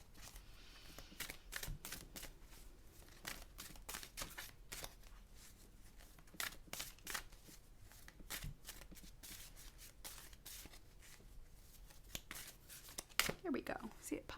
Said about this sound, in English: I don't always know if I'm shuffling on camera here